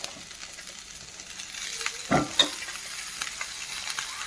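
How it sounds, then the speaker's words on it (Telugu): Onions and amaranth leaves frying in a pan, a soft continuous sizzle with a couple of brief stirring scrapes near the middle, fairly quiet with no talk. "వన్ మినిట్ వరకు ఇలాగా ఫ్రై చేస్తున్నాం"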